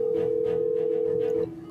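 A steady electronic phone ringback tone holds for about a second and a half, then cuts off unanswered, with faint background noise continuing underneath.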